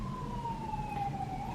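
A distant siren wails steadily, heard from inside a hospital room, its pitch slowly sliding, over a low rumbling background hum.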